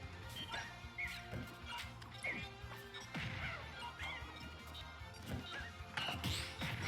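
Down smash attacks landing in a Super Smash Bros match on Nintendo Switch, a dense stream of crashing, whacking hits layered over busy game music and effects throughout.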